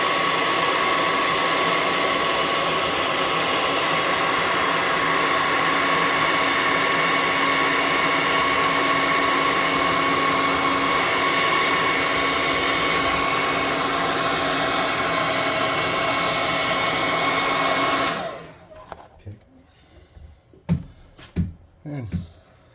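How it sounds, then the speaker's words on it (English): A hair dryer blows air over a freshly painted black miniature for a tabletop RPG, a loud steady whir held for about eighteen seconds before it clicks off, leaving a few faint handling knocks. "I'm going to step this up here and blow dry him real quick."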